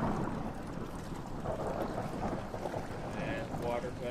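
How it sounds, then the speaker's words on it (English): Steady rain falling in the horror video game Amnesia: The Dark Descent, a continuous close wash of watery, wind-blown noise that runs unbroken throughout, with a faint voice now and then beneath it. "Okay then, rain."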